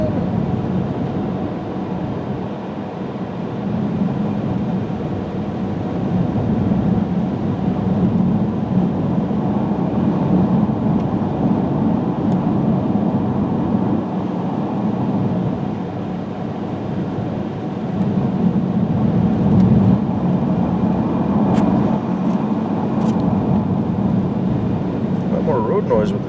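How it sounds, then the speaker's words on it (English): Steady low rumbling road noise from a Chevrolet Cruze driving on snow-covered roads in wind, a continuous broad roar filling the cabin throughout with slight swells in loudness. "Road noise with the snow on the ground."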